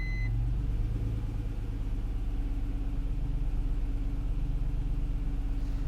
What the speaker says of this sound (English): it sounds like it's misfiring a little bit